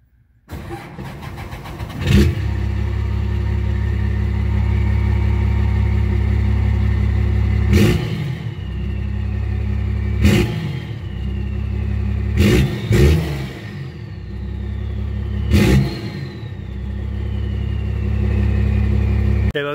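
A deep 12V Cummins diesel truck engine rumbles at idle through a 12-inch exhaust stack, punctuated by about six sharp revs that rise and fall back.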